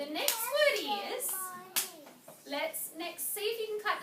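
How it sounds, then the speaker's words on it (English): Young children in a reading lesson clap out the syllables of a word while speaking it aloud: a few sharp, close hand claps in time with their voices. "Let's clap it out."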